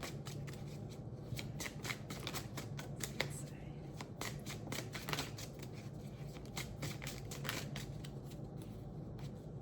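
Tarot cards shuffled close by, a rapid, riffling flutter of crisp card slaps running continuously, fairly quiet, with no talk over it.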